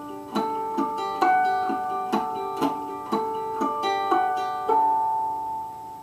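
Chime-like artificial harmonics on a guitar mix with regular plucked notes in a steady picked pattern, about two attacks per second, ringing and overlapping close up with no voice.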